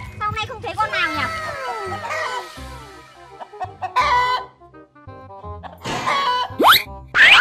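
Chickens in a yard clucking and crowing loudly and close, with repeated bursts of squawks mixed with cartoonish boings and people talking over them.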